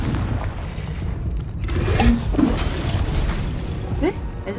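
Confringo fire spells burst repeatedly in Hogwarts Legacy combat, sharp blasts and shattering cracks over a dense game soundscape, with a voice talking throughout.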